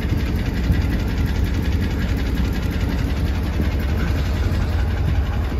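A 2009 Ram SLT pickup truck engine running steadily with slightly loose exhaust manifold bolts, a continuous low idle rumble with a faint ticking pulse, close and even throughout.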